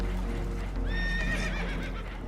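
Spooked horses neigh and whinny in Red Dead Redemption 2, a shrill rising whinny cutting in over a steady low rumble of rushing water and hooves on a damaged boat, close and loud.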